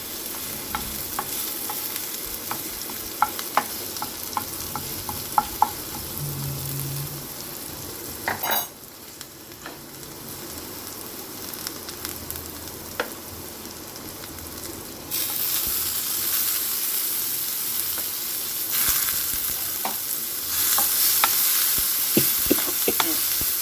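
Garlic and green chilies fry in butter in a pan, a steady soft sizzle with frequent clinks and scrapes of a stirring spoon against metal, the frying growing louder and brighter toward the end.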